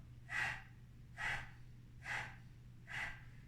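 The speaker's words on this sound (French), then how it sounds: "c'est tout simplement la respiration du soufflet de feu. Ça ressemble tout simplement à ça." Four forceful nasal exhalations of Kapalabhati breath-of-fire yoga breathing, evenly spaced about a second apart, close and clear over a steady low hum, with no talking.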